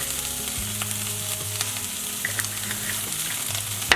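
Jalapenos and onions with fajita seasoning cook in a hot pan, giving a steady close sizzle over a low humming drone, with faint stirring ticks and no voices.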